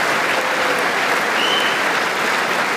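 Sustained applause fills the room at Netanyahu's reception in the US, a dense, even wash of clapping from a large crowd that stays loud and steady throughout, with no voices standing out.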